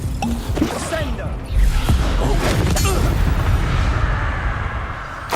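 A Confringo blasting spell explodes in Hogwarts Legacy, a loud booming blast that surges and rumbles on through the rest of the moment amid chaotic game effects, with a voice shouting briefly near the start.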